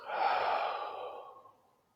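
A single deep breath is released during a guided breathing exercise: a close, airy exhale that swells quickly, then fades away over about a second and a half.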